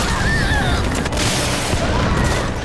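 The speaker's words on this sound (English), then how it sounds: "our infiltrator was hit by a missile" A missile slams into an infiltrator during a Metal Gear Online match, a loud booming blast with rumbling debris and scattered gunfire filling the whole moment.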